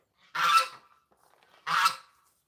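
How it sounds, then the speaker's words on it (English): Two loud, close honks from a goose named Filthy, evenly spaced with a short quiet gap between them, heard in a backyard setting with no talking. "Here's Filthy the Goose."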